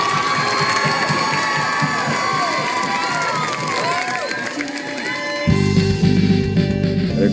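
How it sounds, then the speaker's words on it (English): A large crowd cheers and applauds at a sobriety celebration event, a dense roar of shouts and clapping with high excited voices, loud and continuous, then music kicks in near the end. "She needs the biggest applause here."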